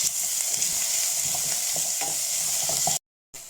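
Vegetables with cumin, coriander, salt and tomato paste are stirred in a sizzling pan, a steady close hiss with soft scraping strokes, then a sudden brief silence near the end.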